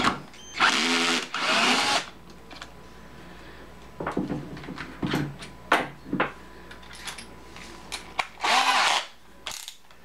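A power drill whirs in short bursts, near and loud, drilling out an old hole in a Pioneer turntable base to replace a broken foot, separated by clicks, knocks and handling noises; the motor spins up three or four times.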